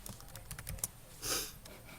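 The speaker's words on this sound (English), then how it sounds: "I'm going to type chapter 7 in there." A few quick, faint keystrokes on a computer keyboard, close and irregular, followed by a short soft rustling burst and one or two more taps.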